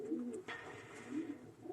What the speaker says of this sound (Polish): dwa najszybsze gołąbki od Adama Zenkę, które pilotowałem